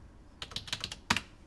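A short burst of computer keyboard keys pressed for a shortcut, a quick cluster of clicks followed by a slightly louder final pair, close and quiet.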